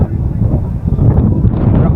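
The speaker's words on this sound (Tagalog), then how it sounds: "Ang lakas ng hangin." Strong wind roars at the Kapurpurawan rock formation in Ilocos, Philippines, buffeting the microphone in a loud, steady, low rumble with no break.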